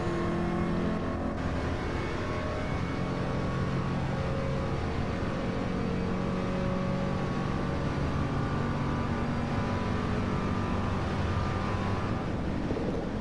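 A very fast race car at the Le Mans circuit holds a steady, loud, full-throttle engine roar at top speed for the whole stretch, without letting up, and no one speaks.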